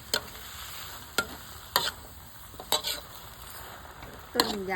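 Vegetable stalks and leaves, whole thick tender greens, stir-fried in a pan, with a steady soft sizzle broken by several sharp scraping stirs of a utensil against the pan, close by. A voice speaks a brief word.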